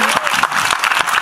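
A brief burst of dense clapping from an audience at a film trailer launch event, steady and fairly loud.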